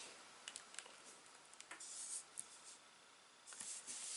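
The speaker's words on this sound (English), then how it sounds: "Let me go ahead and write on here what this is." A pen scratching across the pages of a paper planner in short, quiet strokes and brief pauses, close and soft, with no voices.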